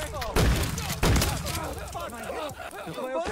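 Gunshots in a Nextbot horror game: two heavy booming blasts close together near the start, followed by chaotic clattering and rumbling, with a voice talking over the action.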